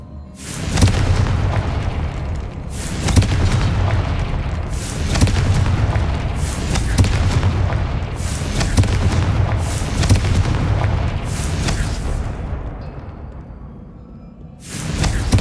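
Repeated booming blasts from the Confringo fire spell in Hogwarts Legacy, about seven loud explosive bursts at roughly even intervals with rumbling between them, then a brief lull and one final burst.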